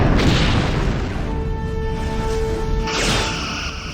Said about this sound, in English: Target is firing on us.